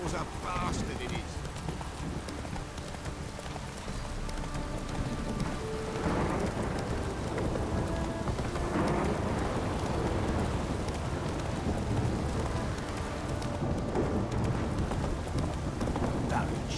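Steady torrential rain in The Witcher 3 pours loudly on surfaces, low thunder rumbling underneath and intensifying midway, with occasional speech and hoofbeat-like clopping mixed into the stormy wash.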